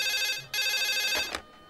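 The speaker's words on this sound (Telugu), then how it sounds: "ఏమండోయ్, ఫోన్" An electronic telephone ring sounds in two bursts separated by a brief gap, bright and close, followed by a short clack.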